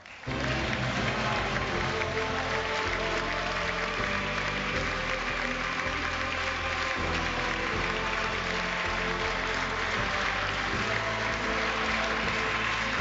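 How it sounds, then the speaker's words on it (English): A huge stadium crowd applauds at the 2007 Rugby World Cup opening ceremony as England's Martin Johnson is welcomed, a dense, steady roar of clapping that fills the whole stretch without letting up. "it always gets a massive round of applause"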